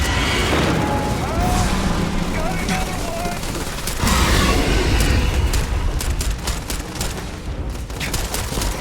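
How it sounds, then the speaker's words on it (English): Heavy gunfire from a big shotgun in the Starfield video game, a dense run of loud booming blasts and rattling shots over game noise, with a voice speaking faintly underneath. "It's gonna be the big shotgun, isn't it?"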